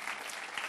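A brief burst of audience clapping welcomes a federal deputy at a public talk event, dense and steady throughout with no voices heard over it.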